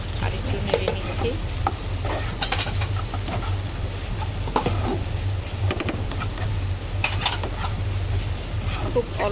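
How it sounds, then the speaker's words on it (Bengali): Green chillies and a little sugar are stirred in a pan over low heat: a steady close sizzle with scattered utensil scrapes and clinks throughout, under a constant low hum. "এখন হচ্ছে আমরা আরেকটু নেড়ে নিচ্ছি"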